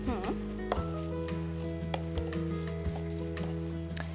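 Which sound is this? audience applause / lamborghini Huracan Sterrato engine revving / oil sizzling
oil sizzling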